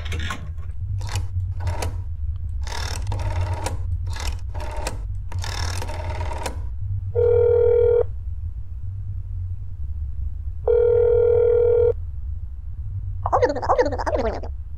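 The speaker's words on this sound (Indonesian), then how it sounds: "Coba telepon dulu aja bang" Phone dialing in the horror game That's Not My Neighbor: a rapid run of clicking key taps, then two long electronic ringing tones with a pause between, ending in a warbling electronic signal over a low steady hum.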